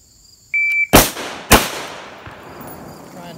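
Two sharp, loud rifle shots fired in quick succession on a range during a defensive rifle drill, each a close crack followed by a fading echo tail, preceded by a brief electronic timer beep.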